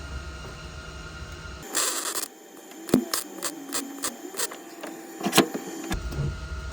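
A welder lays a quick stitch weld on a Hurst shifter bracket for a 1970 Ford Falcon, a series of short crackling bursts, seven or so in an even rhythm, framed by louder machine noise before and after.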